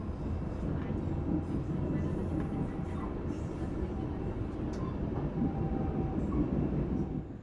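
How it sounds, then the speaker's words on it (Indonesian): Heard from on board, the Malabar passenger train pulls into Ngawi station with a steady, heavy rolling rumble and faint rail squeals, and a voice can be heard in the background. "kereta api Malabar yang saya naiki telah tiba di stasiun Ngawi"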